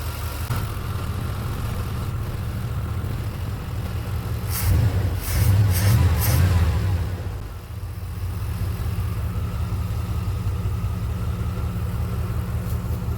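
A 1993 Chevrolet Silverado engine idling with a steady low rumble, rising briefly in a short throttle rev before settling back to idle, heard nearby with no voices.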